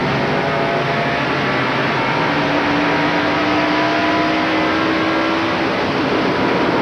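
A 1994 ARCA SuperCar Series pack of stock cars roars at the green flag at Pocono International Raceway, a loud, dense, continuous engine wall with rising pitch as the field accelerates together, no voices over it.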